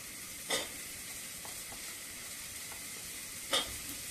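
Red pumpkin and drumsticks sautéing for sambar, a soft, even sizzle at low volume with two brief spatula knocks against the pan, alone without talk.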